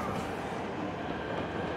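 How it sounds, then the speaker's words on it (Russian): A train in the video game Liberated rumbles steadily along the rails, a continuous moderate rolling noise with no pauses. "Reach your train before it departs."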